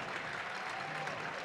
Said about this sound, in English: Crowd fired up to their feet here at Millett Hall.